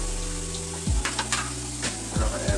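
Ingredients sizzle in a pot alongside smoked turkey tails while red cabbage is being prepared: a loud, continuous frying hiss over a low steady hum, with several soft knocks and stirring bumps.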